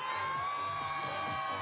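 A large crowd gathered in a town plaza in Pergamino, Argentina, cheers and shouts continuously, with children's voices and whoops rising above a dense, loud wash of noise.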